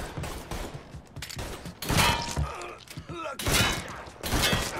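Gunfire in Mafia III, bursts of loud close shots and impacts arriving in clusters around 2 and 4 seconds, mixed with thuds and a groan over game ambience.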